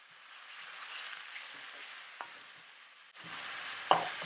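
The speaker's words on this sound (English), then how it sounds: "Keep stirring to combine all the flavors." Cabbage stir-fried with onion, tomatoes, garlic and hot pepper in a pan, a soft continuous sizzle with occasional scrapes of stirring and a sharper clink near the end, close by and without speech.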